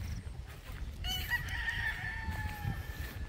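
A rooster on a farm lets out one long crow that stretches and trails off, heard over low rumbling background noise with no talk.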